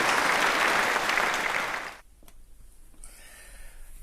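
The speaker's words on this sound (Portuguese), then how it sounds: "Uma salva de palmas para o apóstolo Paulo" A church congregation gives a round of applause, a dense wash of clapping that fades out after about two seconds into quiet room tone with faint scattered sounds.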